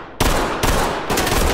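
Gunfire in the Ready or Not video game: three loud, heavy blasts about half a second apart, each leaving a long booming tail, close and with no voices.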